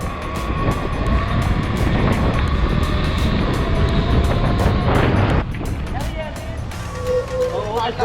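A car accelerates hard in first gear, a loud dense engine roar rising steadily for several seconds, then dropping off abruptly at a shift before building again.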